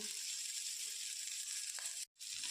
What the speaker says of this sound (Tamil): வெங்காயம், பச்சை மிளகாய் போட்டு வதக்கிக்கலாங்க